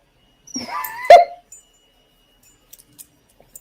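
A dog whimpering and whining from a played-back phone video, with one rising, wavering cry and a short louder yelp, then near silence with a few faint clicks.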